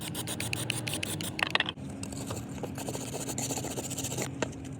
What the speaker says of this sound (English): So I cleaned the bracket up as much as I could.